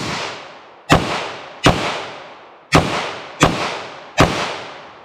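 Five loud revolver shots firing hollow point reloads from moon clips, each a sharp crack with a quick echoing tail, spaced unevenly about a second apart, with no talking.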